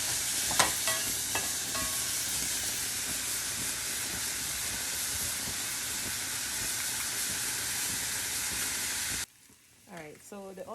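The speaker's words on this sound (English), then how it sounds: "we're gonna wait until the onion get nice and translucent a little bit" Onions frying in a pan for Belizean panades, giving a loud, continuous dense sizzle that stops abruptly near the end, followed by a brief quiet stretch with faint voice-like sounds.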